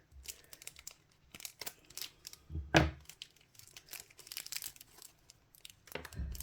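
Scissors cut through the packaging of an advent calendar's sixth-day pouch, with crinkly tearing and snipping sounds in uneven bursts and a louder crunch near the middle, close up with no talking.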